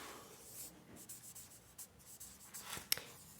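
A pen moves over paper during a physics lesson, faint scratchy strokes and short scribbles with a small tap near the end, quiet and close with no voices.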